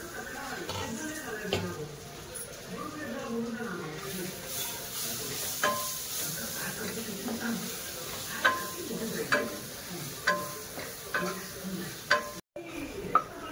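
Mustard and green chili masala sizzles steadily in a pan once the lid comes off, a close, even frying hiss with occasional stirring scrapes and small clinks over it.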